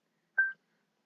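One short telephone keypad tone plays as a call to a mobile phone is placed, a single clean beep lasting under a quarter second, isolated in silence.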